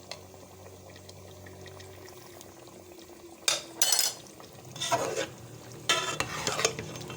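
Chicken cooking in a pot with yogurt and cumin, stirred in several loud scraping bursts over a low steady sizzle, with no talking.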